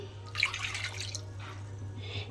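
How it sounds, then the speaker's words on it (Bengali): Two bowls of water tip into a pan one after another, a close splashing pour with a short pause between, set over a low steady hum. "প্রথমে আমি এখানে 2 বাটি জল দিয়ে দিচ্ছি"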